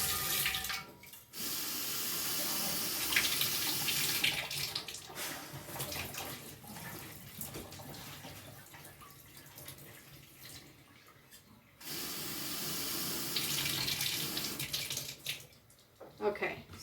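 Tap water runs and splashes steadily into a container of sprouting seeds being rinsed, stopping briefly twice before resuming, with a voice speaking softly at times.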